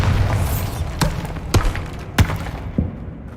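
Several sharp blasting impacts from the Bombarda spell in Hogwarts Legacy, four distinct punchy thuds spaced about half a second apart over a dull rumbling game background.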